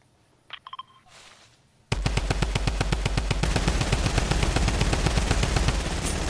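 Rapid automatic rifle fire in Fortnite rattles out in a long, loud, evenly spaced burst aimed at a gas station, preceded by a few quiet game clicks and beeps before the shooting starts abruptly.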